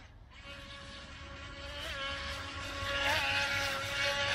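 A small high-revving motor on a JJRC Spectre RC speed boat whines steadily, its pitch wavering as it speeds across the water, growing a little louder toward the end.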